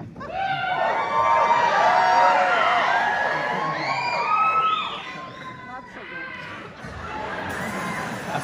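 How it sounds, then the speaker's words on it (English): A concert audience at a tribute show screams loudly together, a dense wash of high shrieks and whoops that swells and then briefly dips before resuming. "for this next number, you can do lots of screaming"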